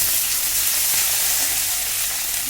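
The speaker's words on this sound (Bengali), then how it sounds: "এটাকে আমি ভালো করে ভাজবো" Potato pieces frying in hot oil with whole cumin seeds, a steady dense sizzle that holds evenly from start to finish, close and fairly loud, with no voices.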